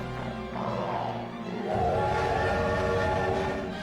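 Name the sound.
train sound effect in a video game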